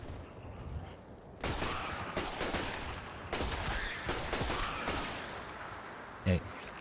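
Gunfire from the video game Fallout 4 comes in bursts of rapid shots over a low background, with one short heavy thump near the end.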